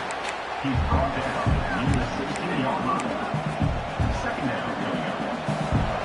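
A crowd in an American football video game cheers in a steady, loud roar with low rumbling thumps and murmuring beneath it, sustained throughout the stretch as the defense defends the red zone.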